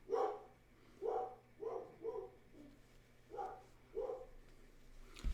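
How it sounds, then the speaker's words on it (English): A dog barks in a quiet room, with about six short, faint barks spaced unevenly, some in quick pairs and others alone. "She's borking."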